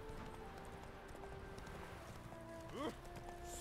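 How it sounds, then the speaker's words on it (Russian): Horse hooves clatter in a running clip-clop in The Witcher 3, steady beats under game ambience with a brief rising tonal cry near the end. "Тагадын, тагадын, тагадынский конь"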